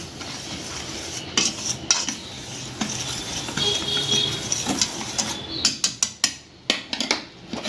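Quick clinking and scraping of a spoon against a bowl as semolina and rice flour get mixed for uttapam batter, steady strokes becoming sharper and more rapid toward the end.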